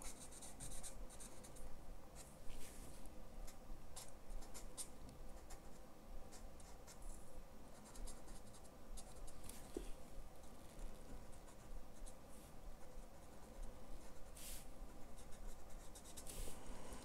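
A marker pen shades a yellow flower drawing on paper with soft, continuous scratchy strokes and light dabbing touches. It is faint and close, with no one talking.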